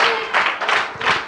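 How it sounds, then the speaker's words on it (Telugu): A church congregation claps loudly in praise of God in a short series of rhythmic bursts of massed clapping, close and lively, with no voices over it. "మరోసారి గట్టిగా క్లాప్స్ ఇచ్చి దేవుని స్తుతించుకోండి అందరూ"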